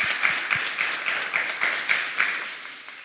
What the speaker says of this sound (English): So really, I think this needs an applause.